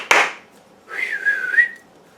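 A person attempts to whistle: a short breathy puff comes first, then a thin wavering whistle tone that holds briefly before fading out, with near silence around it.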